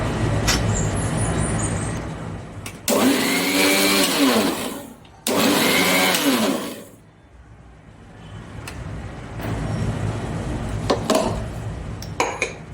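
A mixer grinder jar whirs through a bowlful of grated sweet coconut in loud, separate bursts. Two main pulses of grinding are each a couple of seconds long, with clattering kitchen handling and room noise before, between and after them.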